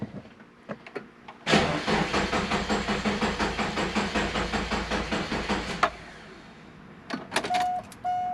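A Subaru Impreza GF8 engine cranks on the starter for about four seconds with a fast, rhythmic whirring chug from a weak battery, then stops without firing, followed by a few faint clicks.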